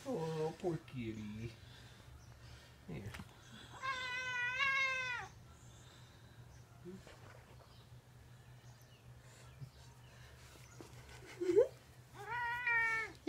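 A cat meows, one drawn-out wavering cry followed later by another, over a low steady background hum.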